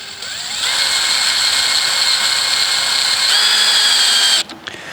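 A power drill drives a screw at an angle into a deck board on an old, derelict deck, a loud steady whine that rises in pitch near the end before cutting off.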